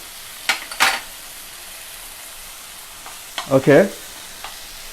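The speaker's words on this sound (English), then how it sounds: "I'm going to cook this till my tomatoes are soft enough." Tomatoes cooking in a pan: a soft, steady sizzle underneath, broken by a few scraping clinks of a spoon stirring, close by, with a brief spoken word near the start.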